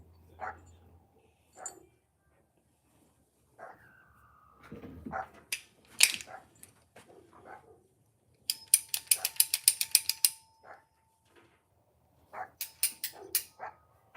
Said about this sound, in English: And then we will start bolting together.